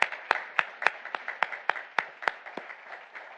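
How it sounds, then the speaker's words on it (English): Sparse, uneven hand claps from a small audience welcoming a guest at a medical ethics talk, sharp separate claps about every quarter second, close and moderately loud with no voices. "so that we can give you a round of applause"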